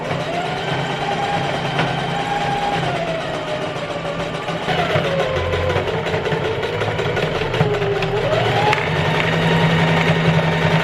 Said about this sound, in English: So let's refill that and then we'll sew it onto the waistband.